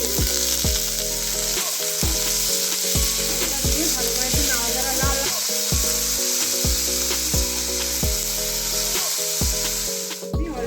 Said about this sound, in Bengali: তারপরে মিহিন করে আলু কেটে রেখেছি ওটা আমি পুরো দিয়ে দেবো